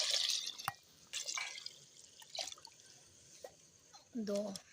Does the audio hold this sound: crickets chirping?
no